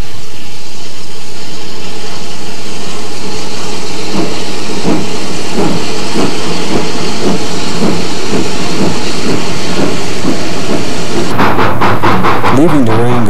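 Narrow gauge steam train hauled by a Baldwin-built 1882 C-16 class 2-8-0 locomotive leaving Durango, with rhythmic steady chuffing exhaust beats and rail clatter building over a broad hiss, then a burst of sharper high hiss near the end.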